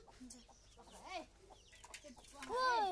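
Kadaknath chickens, hens and a rooster, cluck in short, uneven bursts nearby, ending with a louder, drawn-out squawk; no talking.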